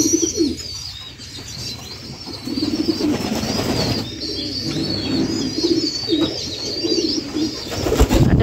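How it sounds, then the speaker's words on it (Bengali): Pigeons coo inside a pigeon house, their layered, overlapping calls rolling steadily and close by with a few brief chirps and a faint wing flutter near the end. "আমাদের কবুতর ঘরে ঢুকলেই এই সাউন্ডটা পাইবেন।"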